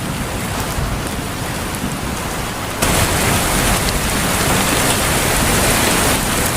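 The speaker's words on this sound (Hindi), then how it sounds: "देख तो बाहर कितनी तेज बारिश हो रही है" Heavy rain pours down in a steady, dense hiss that swells louder partway through, with no voices over it.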